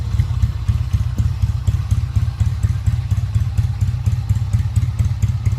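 A Honda CD Road Master motorcycle with its original silencer and carburettor idles nearby, a steady low engine throb with rapid rhythmic pulsing and light mechanical clatter throughout, no voices.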